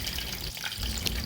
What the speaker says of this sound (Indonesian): Proses menggoreng terong juga ini sebenarnya cepat banget.